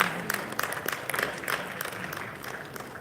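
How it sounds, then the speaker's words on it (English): Faint applause from a panel audience at a money-management talk, a soft, even patter of many hands clapping with no one speaking. "give yourselves a round of applause"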